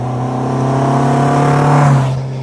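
A classic car's engine roars past on a flyby, a loud steady growl that swells as it nears and then drops away sharply as it passes, with no voices.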